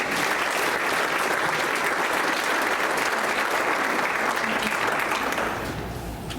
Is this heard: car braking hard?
no